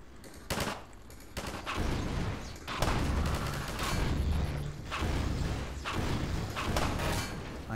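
Gunfire in the Half-Life 2: Episode One video game, with bursts of rapid shots and clattering mechanical noise that come and go through most of the passage, fairly loud and dense.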